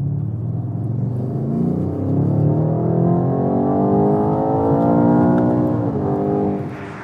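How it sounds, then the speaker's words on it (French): A 2020 BMW M8 Coupé Competition with a 625 hp V8 revs and accelerates hard from inside the cabin. The deep engine note climbs steadily in pitch over several seconds as the car pulls, then eases off, with no talking. "vous avez la mélodie du V8"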